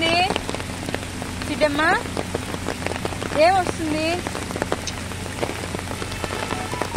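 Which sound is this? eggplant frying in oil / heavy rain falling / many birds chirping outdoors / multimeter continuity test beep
heavy rain falling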